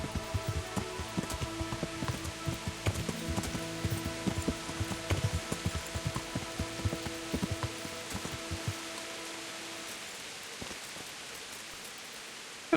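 Rain patters steadily in Kingdom Come Deliverance, a dense spray of drops with scattered sharper taps that thins and fades toward the end.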